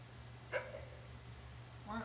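A dog in the video game Fable 2 gives a brief, faint growl against a steady low background hum, with a second short sound near the end.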